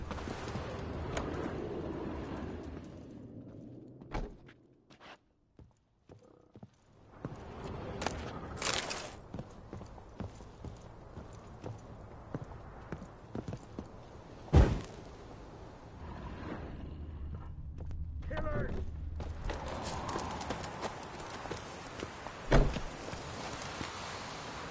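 Hooves of Roach, the horse in The Witcher 3, clip-clop and gallop across uneven ground at varying pace, interrupted by a few sharp thuds and a quieter stretch, with game ambience underneath.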